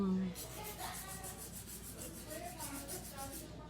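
Electric nail drill bit filing acrylic nails near the cuticle, a soft close whirring buzz with gritty rubbing texture, quiet and steady over a few seconds.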